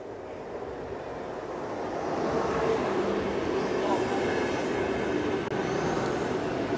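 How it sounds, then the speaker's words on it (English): A train pulls into a station in Finland, bound for Helsinki, its broad rumble swelling after a couple of seconds and holding steady and loud, with a faint voice in the background. "The train is coming."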